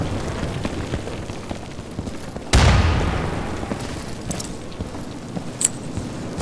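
A fragmentation grenade goes off in the tactical shooter Insurgency: one sudden loud boom with a low rumbling tail that slowly fades over a few seconds, with a sharp crack of gunfire a few seconds later.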